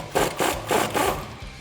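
Rhythmic rasping strokes from hand tool work on a 2008-2019 Dodge Challenger suspension while installing lowering springs, about four close scraping pulls in steady succession with no talk.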